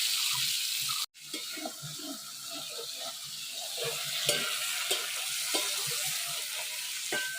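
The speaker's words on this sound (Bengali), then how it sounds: "হয়ে গেছে মাছ ভাজা, তুলে নেব" Shrimp sizzle and fry in hot oil in a traditional Bengali village kitchen, a steady loud crackling hiss with occasional stirring clinks and no talk.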